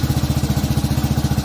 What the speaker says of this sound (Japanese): エンジンが冷えてるもんで、エンジンの音が小さくなるまで待っとけ。